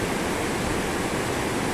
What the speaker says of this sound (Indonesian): airnya begitu deras dalam mengalir